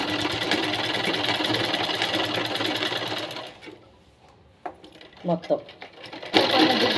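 Sewing machine stitching a Punjabi dress, a steady close whirring run for several seconds, then stopping while someone speaks, then starting again briefly.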